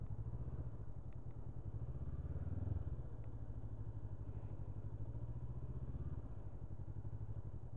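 2022 Honda CB500F motorcycle setting off and riding, a low, steady engine drone heard from on board with wind rumble and no talking.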